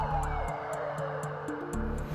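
An Australian ambulance siren wails as a badly injured man is rushed to the emergency department, its tone steady and fairly loud over a continuous low rumble, with no voices.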